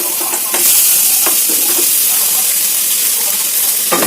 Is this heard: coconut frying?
yes